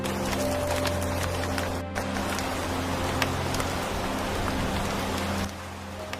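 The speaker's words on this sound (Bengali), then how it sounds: "হে ঈশ্বর, এই ঠান্ডার মধ্যে আবার এত বৃষ্টি হচ্ছে।" Heavy rain pours steadily at night on a cold January evening, a dense, continuous hiss with patter on surfaces that thins slightly near the end.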